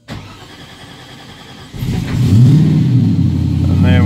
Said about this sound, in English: And there we go, on the second crank, and we're getting 1400 RPM straight away.